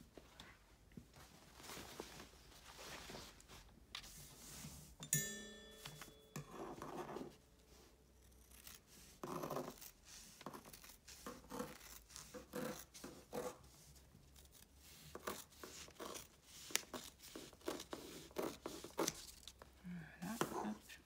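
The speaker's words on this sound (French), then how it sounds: "Mon tissu est un peu épais, du coup, c'est un peu plus difficile pour couper." Scissors work slowly through thick fabric for a sewn gardening apron, giving intermittent, effortful crunching snips with soft rustling and handling noise between cuts.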